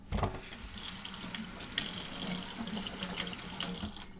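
Water runs steadily from a bathroom sink tap into the basin during tooth brushing, a close, continuous splashing hiss with no talking.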